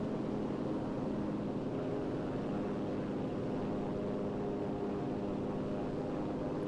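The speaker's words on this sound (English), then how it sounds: "I think I hear another plane." In the World War II shooter Enlisted, a propeller aircraft drones with a steady, continuous low engine hum, even in level and unchanging throughout.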